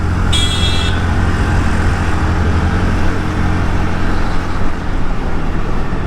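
A Honda Dio scooter ridden through traffic gives a steady, loud rush of engine drone and wind noise throughout, with a short high horn toot near the start.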